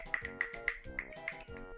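Crisp finger snaps ring out about every quarter second as applause for beat poetry, a quick close rhythmic series of sharp clicks over a faint background tone.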